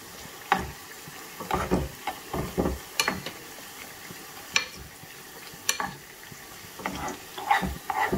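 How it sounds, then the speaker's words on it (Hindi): Chopped onions fry in desi ghee in a pan for a tadka while haleem cooks, with soft sizzling broken up by repeated stirring scrapes and clatters, close and moderately loud, with no talking. "ये देखें प्याज हमारा लाइट ब्राउन होना स्टार्ट हो गया, थोड़ा सा हम इसको और करके इसका तड़का लगा लेंगे।"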